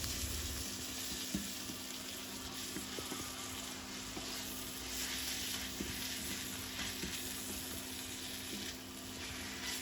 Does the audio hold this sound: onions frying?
yes